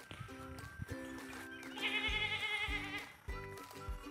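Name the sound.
goats bleating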